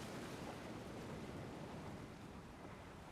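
Ocean waves wash over rocks by tide pools, a steady, soft, hissing surf that continues without a break and with no voices.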